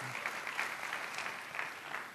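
Church congregation applauding during a sermon, a brief, steady wash of clapping heard at a moderate distance.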